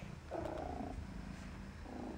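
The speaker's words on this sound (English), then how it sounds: "I love his purr." A stray cat purrs steadily and close, a soft continuous rumbling throb that carries on for the whole stretch with no talk over it.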